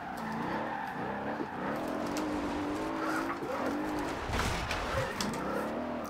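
Car drifting in the Forza Horizon 2 racing game, a steady engine drone with sweeping pitch changes and tire skid noise running continuously throughout, loud and close.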